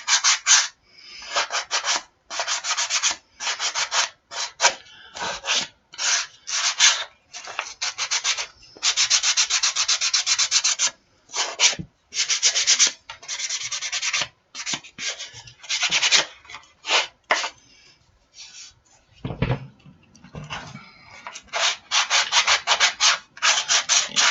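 Crackle paste journal covers are rubbed and sanded along their edges, producing repeated dry scratchy strokes in irregular bursts with short pauses between them, close and fairly quiet, with no talking.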